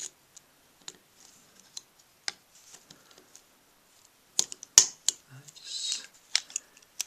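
Small plastic clicks and snaps as the motor part of a 1971 Mattel Hotline Speedchief toy car is fitted into place, close and crisp, sparse single ticks building to a cluster of louder snaps and rattles.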